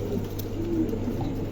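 Andalusian pigeons coo softly at close range, a few low rolling coos over a quiet background hum.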